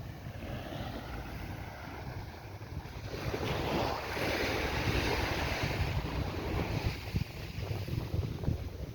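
Ocean surf rolling onto a beach in Barbados along a row of beachfront homes, a continuous wash of waves swelling louder midway, mixed with gusty wind buffeting the microphone, no voices.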